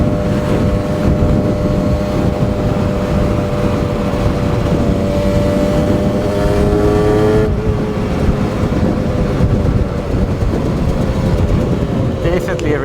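Aprilia RS two-stroke motorcycle engine revving loudly and continuously, its rising and falling harmonic whine sustained throughout at close range, with voices talking over it.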